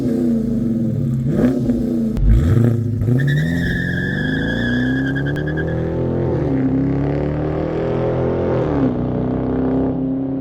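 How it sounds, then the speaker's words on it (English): A 2022 Dodge Charger R/T with a dual tip exhaust runs with a steady, close engine drone that swells and dips in pitch as it revs. No one speaks. "You have a dual tip exhaust, which, let's stop there and take a listen to how this thing sounds."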